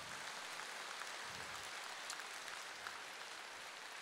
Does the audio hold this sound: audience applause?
yes